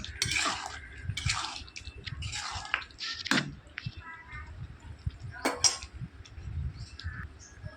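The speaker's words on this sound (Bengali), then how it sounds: "রান্নাটা হয়ে গেছে ভালো করে মিশিয়ে এবার আমি নামিয়ে নেব" Cooked taro and prawn curry stirred and mixed in a pan, with repeated utensil scrapes and clinks against the metal in irregular bursts, close by over a low background hum.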